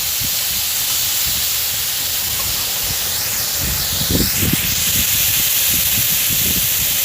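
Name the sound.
katla fish frying with salt and turmeric under lid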